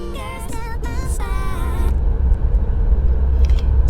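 BMW M8 Competition Gran Coupe driving, with a steady low engine and road rumble that grows gradually louder and nearer, briefly overlaid at the start by a few short tonal chimes or beeps.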